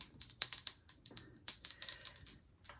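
A small bell jingles brightly in two quick bursts of shaking, separated by a brief pause, with a last soft ring at the end.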